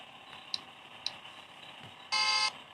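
A short, steady electronic horn tone from a motorcycle in a driving video game, sounding like a car horn, blaring once for about half a second after a few faint ticks.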